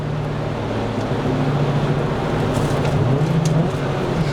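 Honda CRX with a naturally aspirated VTEC engine revving smoothly, a steady engine drone climbing gradually in pitch over a few seconds, heard fairly close with wind-like noise around it.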